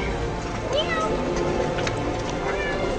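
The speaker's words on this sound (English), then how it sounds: "You are a cute French cat." A cat in Paris gives a few short, thin meows close by, heard over a dense, noisy background of city and street sound.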